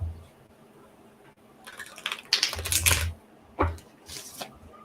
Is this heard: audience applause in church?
no